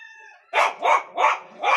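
A dog barks four times in a steady series of loud, close barks in a backyard, following a brief faint tonal sound.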